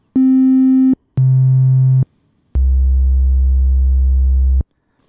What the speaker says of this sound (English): You have a sine wave, which I'm set to right now.